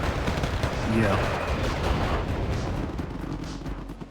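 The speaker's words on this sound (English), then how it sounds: "Artillery strikes are coming from inside the house" Artillery strikes and gunfire in the Wargame video game crackle and thud in a dense, continuous barrage, with a brief voice heard under the fighting.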